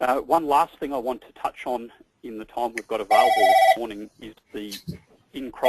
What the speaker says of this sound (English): Apologies for the phone ringing in the background there